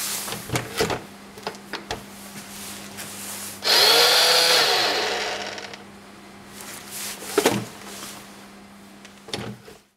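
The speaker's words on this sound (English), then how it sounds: "The motor for these large brushes appears to run without much effort." An electric brush motor in a surveillance robot prop whirs steadily for about two seconds, a loud broadband hum that rises abruptly and tapers off, framed by faint clicks and handling knocks before and after.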